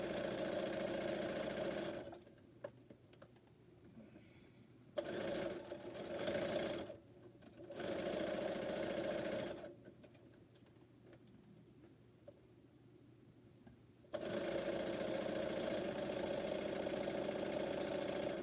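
A sewing machine runs steadily through fabric while sewing masks, humming in several long stretches separated by short quiet pauses.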